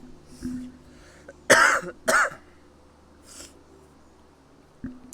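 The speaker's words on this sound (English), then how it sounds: "I've been coughing for about a month straight" A man coughs twice in quick succession, close and loud, with a faint throat-clearing later and small handling noises in an otherwise quiet room.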